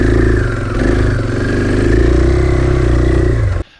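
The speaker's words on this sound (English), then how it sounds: "When you punch that throttle, it takes off." A 2021 KTM 500 Enduro motorcycle engine runs close and loud with a steady, throbbing mid-pitched hum and a slight rise in revs, then cuts off abruptly near the end.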